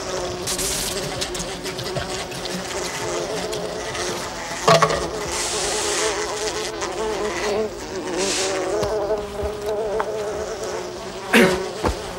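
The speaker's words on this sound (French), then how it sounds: "ils vont enfumer les abeilles" A swarm of bees buzzing in a farm setting, a dense continuous drone with a few sharp knocks and thuds, while people talk and shout nearby.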